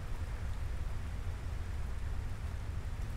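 Steady rain in a Final Fantasy game fills the whole stretch as a dense, even hiss with a low rumbling wash beneath, unbroken and fairly loud throughout, with no voices over it.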